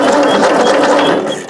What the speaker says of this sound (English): we'll put that in and crank her over and see if we get spark